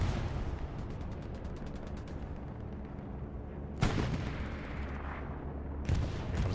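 Bombing-run explosions and gunfire in the Hell Let Loose battle game: a dense, continuous roar of distant firing and rumbling, broken by two loud heavy blasts near the end.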